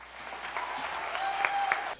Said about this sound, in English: she brought the Democrats to their feet with the loudest applause line of the night, lasting almost 30 seconds